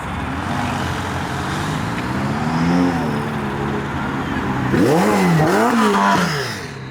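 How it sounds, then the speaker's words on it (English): Cars leaving a car show make loud, close engine revs and accelerations, with rising and falling pitch sweeps and a burst of turbo blow-off hiss as one passes near the end. "The blow-off valves."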